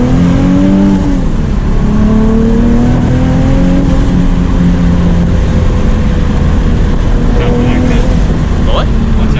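A twin-turbo Nissan 370Z Nismo on a test drive, its engine note droning loudly and steadily with shifting pitch as it pulls along, and a voice briefly audible inside the car.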